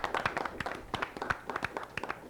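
Applause from a small audience at a school quiz-style competition, with scattered uneven claps at moderate volume that stay fairly thin and sparse throughout.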